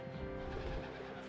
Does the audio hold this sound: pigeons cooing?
yes